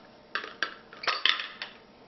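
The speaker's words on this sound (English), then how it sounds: "The bottom screws off, and this is where, with any blender, you have to be very careful" A heavy glass jar from a Cuisinart SPB 600 SmartPower Deluxe die-cast blender has its bottom unscrewed, giving a series of close, sharp clinks and scraping taps in irregular bursts, with no voices.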